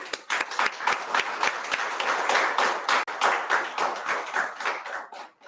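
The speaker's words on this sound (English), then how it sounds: "Please, a round of applause." Audience applause fills a Jeju-Madeira sisterhood anniversary ceremony, steady and dense for several seconds before tapering off at the end, with no talk over it.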